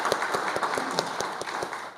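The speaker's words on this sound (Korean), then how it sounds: "우리 함께 한번 박수로" A few people in a conference audience at a multicultural mission conference opening service clap steadily, about eight sharp claps in an even rhythm, moderately loud in a reverberant hall.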